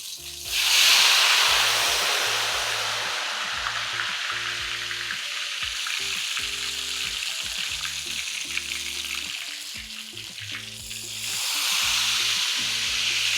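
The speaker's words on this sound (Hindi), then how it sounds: "बैटर डालते ही शू आवाज आनी चाहिए, धुआं निकलना चाहिए।" Ghewar batter hits hot oil with a sudden loud hissing sizzle, then the frying settles into a steady crackle with bubbling, swelling again near the end as more batter is poured in.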